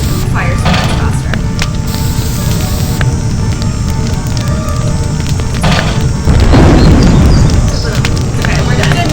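In the video game Nancy Drew: Ghost Dogs of Moon Lake, gas ignites into fire as a steady, dense roar of broadband noise that swells louder and fuller toward the end.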